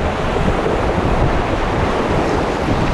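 Loud, constant rushing of river water during white water rafting, a dense roar with wind buffeting the microphone and no talking.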